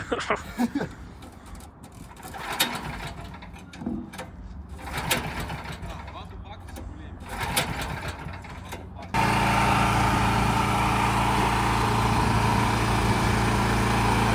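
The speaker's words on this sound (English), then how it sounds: "we got the pony motor started" A pony motor engine on a lowboy trailer starts up, and voices talk over background noise before a loud, steady engine drone takes over and runs without a break.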